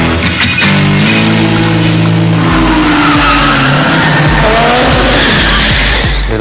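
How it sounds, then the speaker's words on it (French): A car drifting sideways produces loud, continuous tire squeal and skidding over a roaring, revving engine. It is close and sustained throughout, with no voices. "Le drift, c'est l'art de maîtriser sa voiture en glisse."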